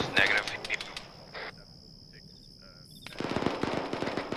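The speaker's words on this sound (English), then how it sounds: "We're shooting off the southwest," Arma 3 military simulation game gunfire: rapid bursts of shots at the start, a quieter lull with a high steady tone, then another run of automatic fire.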